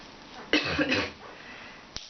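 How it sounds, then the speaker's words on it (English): A harsh, chesty cough bursts out in two quick heaves, followed by a short sharp cough a moment later, close and alone. "I actually have a chesty cough."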